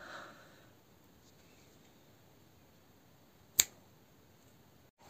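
A single sharp finger snap, close and crisp, standing out alone against near silence.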